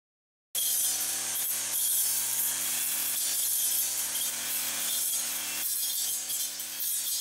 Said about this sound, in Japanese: 今は久部良青年会の草刈り作業です